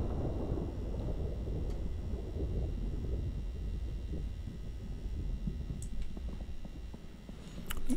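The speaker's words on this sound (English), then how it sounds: "Still raining." Steady rain and rolling thunder in the survival game Project Zomboid, a continuous broad rumble with a few sharper rain taps, loud and unbroken throughout with no talk.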